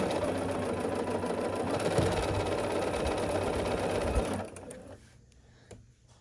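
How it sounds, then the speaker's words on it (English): Sewing machine stitching quilt block pieces along a seam, a steady fast mechanical whir and needle clatter running for about four seconds before stopping, leaving faint handling sounds. "And sew along this length here."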